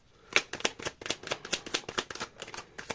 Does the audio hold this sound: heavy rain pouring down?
no